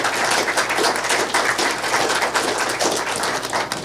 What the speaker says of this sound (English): let's give her a round of applause for her leadership on this issue